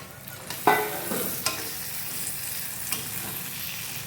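Tomatoes and ginger-garlic paste are sautéed in a pan for a prawn dish. A soft, steady sizzle runs throughout, with a few spatula scrapes and knocks against the pan.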